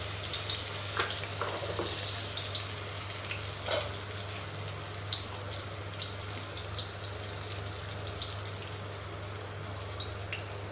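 Boiled raw banana pieces fry in oil in a wide pan, giving a steady close sizzle with a few faint clinks and stirring scrapes, with no voices.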